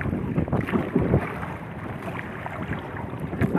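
Boat motoring across open sea toward a fish trap, with steady broadband water rush and wind buffeting the microphone, close and continuous with no talk.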